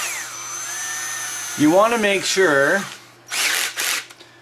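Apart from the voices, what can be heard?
drill drilling out an RC truck output drive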